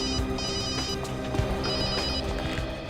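A telephone bell rings steadily during a phone call in a CID crime drama scene, the repeating ring sitting over a dense background score with no talk.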